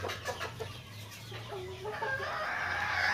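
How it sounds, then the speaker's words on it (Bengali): Two hens sit side by side brooding on a clutch of eggs at home, giving close, soft repeated clucks and a longer rising call near the end, with no talking. "দেখেন এই দুইটা মুরগি ডিমে বসে আছে।"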